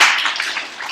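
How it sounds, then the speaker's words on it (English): An audience clapping for Marcus at a talk, a loud, dense burst of many hands that tapers slightly over a second. "Can we all give Marcus a clap and a thanks?"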